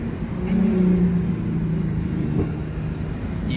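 A Lexus IS350 with a straight-pipe exhaust revving on city streets, a loud, deep engine drone that swells and settles, with the exhaust popping as the revs fall.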